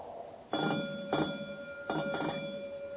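An electric fire alarm bell rings in several short bursts against a faint background hum, fairly quiet and regular, in an old-time radio drama.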